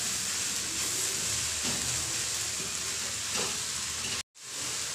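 Poi saag leaves sizzling in a hot pan with salt as they are stirred, a dense steady hiss and crackle with faint scraping, close and fairly loud, cutting out briefly near the end.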